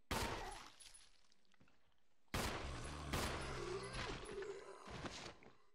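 Gunfire in the Resident Evil HD video game, a sharp loud shot, then a pause before two more heavy blasts with rumbling aftermath, all close and punchy with no talk over them.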